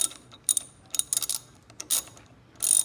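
Mount for a large cup holder being tightened onto a 2020 Indian Roadmaster Dark Horse motorcycle, a series of short, close ratcheting clicks in irregular bursts with brief pauses between.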